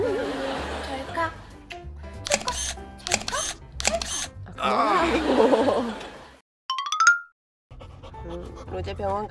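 Sharp camera shutter clicks sound while a golden retriever with leg trouble is photographed on the way to a vet check, mixed with voices, dog panting and other close household noise.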